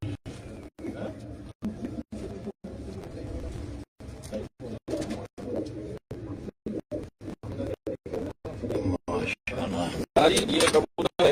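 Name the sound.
pigeon cooing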